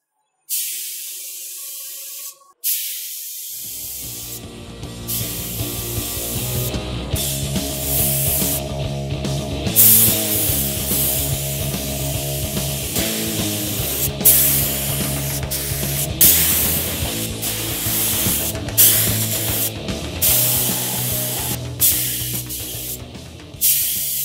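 A steady hiss of spray paint from a spray gun painting a drill press body, broken by short pauses, with faint mechanical clicks and background music throughout.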